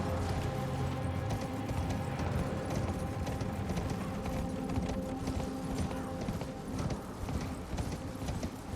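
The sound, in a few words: horse hooves galloping in the Elden Ring video game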